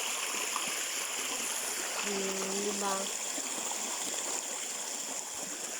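A clear stream flows steadily near a cornfield in the dark, giving a constant, even wash of water that runs the whole time, with a brief spoken question partway through.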